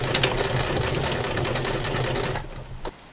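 A sewing machine back-stitches a fabric face mask, running in a fast, even chattering rhythm for a few seconds before slowing and stopping with a couple of soft clicks.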